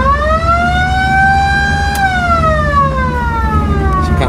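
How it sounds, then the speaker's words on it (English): Novelty siren on a 1979 Pontiac Trans Am, worked from a toggle switch, wails loud and close: the pitch climbs slowly, then at about two seconds it falls back down, with nothing else heard over it. "And then you have your siren down here on a toggle switch."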